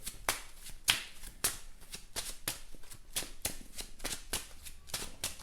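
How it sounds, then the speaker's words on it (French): A deck of cards for the Marvel Champions card game being shuffled by hand, a quick series of sharp riffling bursts repeating in a steady rhythm, close and clear, with no talking over it. "Je rebrasse mon deck."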